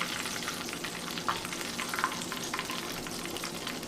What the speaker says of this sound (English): we're just going to go ahead and finish cooking these corned beef ones right quick